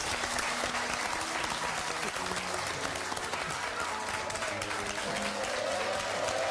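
Studio audience at a French television game show applauds an artist being introduced, a dense, steady wash of clapping that stays loud and even throughout with no pauses.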